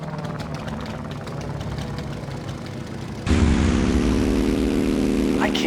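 Propeller fighter planes droning in a Heroes of the Pacific naval battle, a steady engine hum that jumps louder and closer partway through as more aircraft join.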